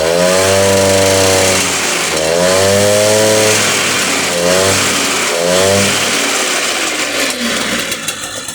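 A small motorbike engine revs up in several loud, buzzing bursts, then drops back and settles to a smooth idle, heard close and alone.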